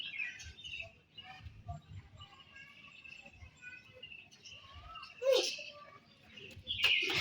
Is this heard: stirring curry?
no